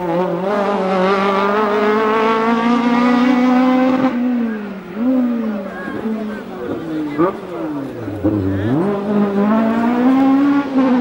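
A Renault Clio Maxi rally car at the 1996 Polish Rally drives past loudly, its engine droning steadily and then revving up and down through gear changes, with commentary running beneath it.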